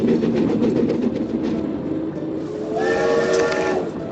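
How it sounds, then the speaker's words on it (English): Train running in the Nancy Drew video game Last Train to Blue Moon Canyon, a steady loud rumble of the moving train with a whistle-like tone rising near the end, no talk. "Can't go outside until the train stops."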